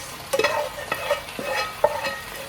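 Sautéed garlic and onions tipped into a pan of pork chops for Filipino afritada, giving a few soft clattering stirs and scrapes with a light sizzle underneath, spaced irregularly and close by.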